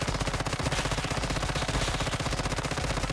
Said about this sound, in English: if you are shooting the same dummy over and over and over again, your DPS is going to drop